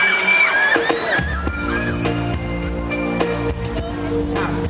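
Concert crowd cheering and whooping loudly throughout, with high shouts over steady music-like tones and a dense, sustained roar that stays near and constant.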